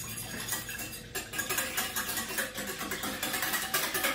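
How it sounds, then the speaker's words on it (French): A utensil stirs a liquid jello mixture with added cold water, giving a steady run of soft clinking, scraping and sloshing strokes, close and fairly loud, with no talking. "Hop, on remue à nouveau."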